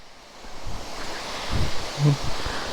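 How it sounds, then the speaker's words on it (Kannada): A waterfall at Kudremukh running low on water gives a broad steady rushing wash with some wind-like buffeting, moderately loud and continuous with no talking. "ಚೆನ್ನಾಗಿದೆ ಫಾಲ್ಸ್. ಬಟ್ ನೀರು ಅಷ್ಟೊಂದೇನಿಲ್ಲ ಇವಾಗ"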